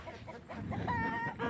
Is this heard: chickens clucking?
yes